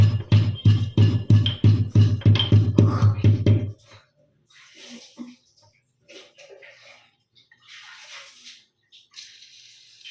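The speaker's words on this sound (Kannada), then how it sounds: "ಜಸ್ಟ್ ಅದನ್ನು ತೆಕ್ಕೊಂಡು ಹಾಗೇ ಕುಟಾಣಿಯಲ್ಲಿ ಹಾಕ್ಕೊಂಡು ಜಜ್ಕೊಂಡು ಹಾಕ್ಕೋತೀನಿ" An unpeeled ingredient pounded in a small kutani mortar makes about a dozen quick, even, close thuds in a steady rhythm, followed by quieter scattered kitchen handling sounds.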